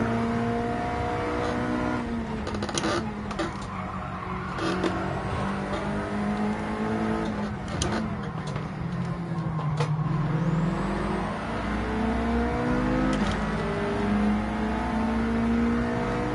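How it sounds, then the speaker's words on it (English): Lamborghini in Gran Turismo 7 accelerating hard, its engine note climbing through gears with rising harmonic sweeps, loud and steady, among other cars. "That Lamborghini took off like a scalded cat."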